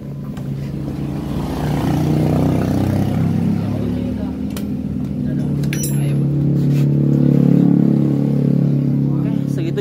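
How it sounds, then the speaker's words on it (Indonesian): An automatic scooter idles and runs steadily with a rough, grinding noise coming from its CVT belt and pulley area, a continuous low engine drone with faint talk audible at times. "Di area CVT dia bunyi agak sedikit ngorosok."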